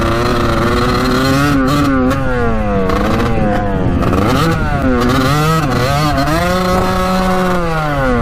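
A 1989 Kawasaki KX125 dirt bike engine with a carburetor fault revs continuously, pitch climbing and dipping in repeated rising sweeps, loud and close with a rough, uneven tone.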